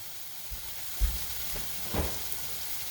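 Butter sizzles steadily in a pan of frying apples, a close, continuous crackle with a couple of louder pops as the fruit is stirred.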